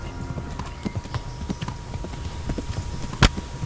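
Steady clip-clop of horse hooves trotting in the video game Kingdom Come: Deliverance, an even rhythmic beat with a sharper thump near the end, no talking.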